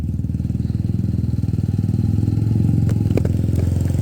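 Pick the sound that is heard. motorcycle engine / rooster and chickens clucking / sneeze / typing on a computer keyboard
motorcycle engine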